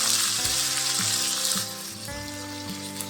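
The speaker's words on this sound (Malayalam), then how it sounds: "ഇനി ഇതിലേക്ക് ചെറുതായി അരിഞ്ഞിട്ടില്ല 1 തക്കാളി ചേർത്ത് വഴറ്റിയെടുക്കാം." Chopped tomato is sautéed with garlic in a hot pan for prawn roast, producing a strong, constant sizzle over a steady repeating hum that softens partway through.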